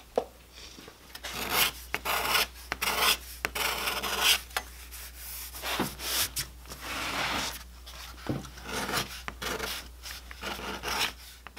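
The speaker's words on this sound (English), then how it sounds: "I spent quite some time scraping on it." A hand scraper works the rosette flush on an acoustic guitar soundboard, giving close, repeated rasping strokes of uneven length with short pauses between them.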